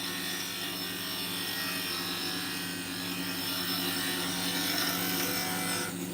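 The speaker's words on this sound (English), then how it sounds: "Again, this is doing more of like a scraping." Wood lathe spinning a HempWood blank while a negative-rake tool scrapes it, a steady close hum with a continuous hissing scrape throughout and no speech.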